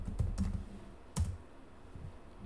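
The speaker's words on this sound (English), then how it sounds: "And then I'm just going to type in turquoise background." Computer keyboard typing while entering a search for a turquoise background in a design tool, heard as a few quick close keystroke clicks in bursts with short pauses between, no voices.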